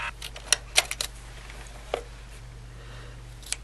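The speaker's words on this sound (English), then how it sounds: "I found the best thing to do for that is to use a P-Touch labeler." A P-Touch label maker printing labels, heard as a few sharp clicks and short mechanical ticks spread out against a quiet, steady hum.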